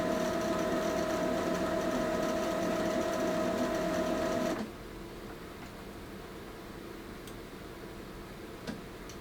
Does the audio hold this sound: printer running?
yes